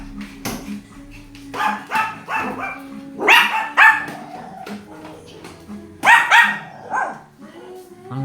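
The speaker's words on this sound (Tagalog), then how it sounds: "Ang tatapang ng mga aso." Several dogs bark in bursts, sharp and fairly close, with clusters of yaps and barks spread across the stretch while someone talks over them at a home during Christmas preparations.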